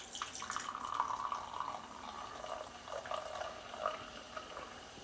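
Mountain Dew soda poured into a glass, giving a faint, steady fizzing and splashing hiss that swells and eases in small surges, soft and close throughout.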